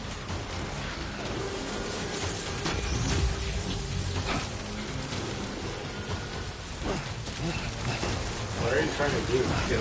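Steady rain falls in the video game Death Stranding, a dense, continuous hiss with a low rumble underneath, while a voice speaks over it.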